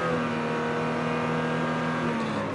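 A car engine holds steady at about 2000 rpm, a smooth continuous hum with firm harmonic tones, close and moderately loud, with no voices.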